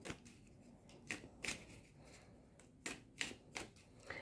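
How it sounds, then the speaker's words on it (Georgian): Egregore cards being spread out by hand, a series of crisp papery slaps and flicks in irregular clusters, close but quiet, with no talking. "მე ახლა მინდა გავშალო ეგრეგორების ბარათები"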